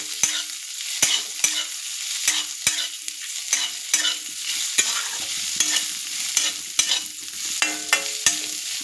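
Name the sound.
bay leaves, dried chilies and five-spice tempering being stirred in oil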